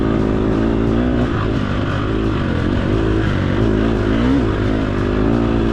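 A dirt bike in a hare scramble at McMahan's Ranch accelerates out of a corner in third gear, its engine loud and near, revving and rising in pitch with a rough, throaty roar.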